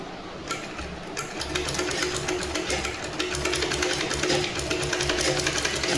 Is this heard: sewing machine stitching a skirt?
yes